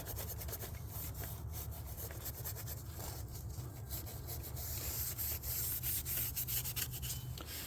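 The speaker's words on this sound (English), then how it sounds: "Now for the mating surface, a little Scotch pad. Let's make sure we get rid of any grime and debris." Steady, continuous scrubbing of a Scotch pad across an engine mating surface on a Chevy Silverado, clearing grime and debris with a close, rough, rhythmic rasp that keeps going throughout.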